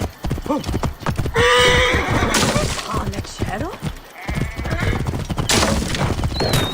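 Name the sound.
horse galloping in video game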